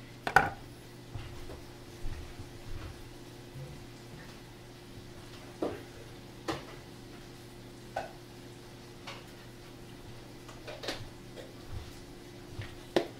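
A knife chopping an onion on a cutting board for gumbo, a dozen or so sharp, sparse taps spaced irregularly across a quiet kitchen with a faint steady hum.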